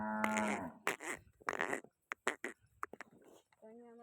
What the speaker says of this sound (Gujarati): અહીંયા અમારી બધી દેશી ગાયો છે.